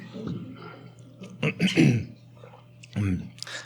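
A man with a lingering two-week cough clears his throat and coughs several times in quick, raspy bursts, with breathy pauses between them and some muttered talk mixed in.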